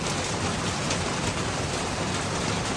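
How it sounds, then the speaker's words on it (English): Steady rain falling outdoors on a lawn during mowing work, a dense, even hiss of drops close to the microphone with no pauses or voices. "I'm getting rained on."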